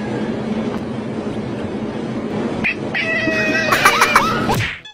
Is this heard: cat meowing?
yes